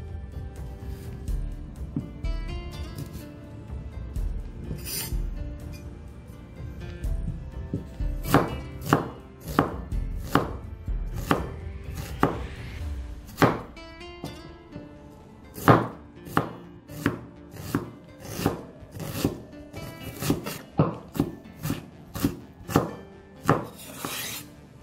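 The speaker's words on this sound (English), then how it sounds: "2 medium-sized onions that I'm going to chop into small bits." Two medium onions are chopped into small bits on a board, a few slow cuts at first, then a long run of sharp, close knife knocks at an even rhythm, alone with no talking.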